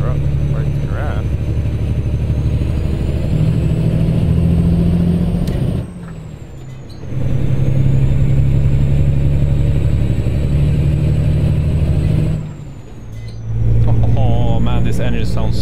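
Peterbilt 389 truck hauling a bulldozer at night in Kansas, with a steady heavy diesel drone heard from inside the cab. The engine note rises and falls through gear changes, with two brief dips in between.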